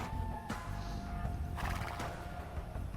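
In Age of Empires II, horses whinny and hooves clip-clop during a Genghis Khan campaign battle, with two sharp neighs standing out above busy game sounds.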